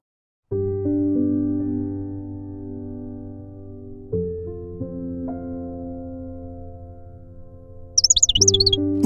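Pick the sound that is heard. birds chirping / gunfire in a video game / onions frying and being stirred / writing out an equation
birds chirping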